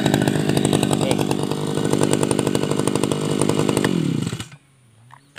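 A Tabata brush cutter engine runs close up with a loud, steady buzzing drone, then cuts out abruptly, leaving near-silence.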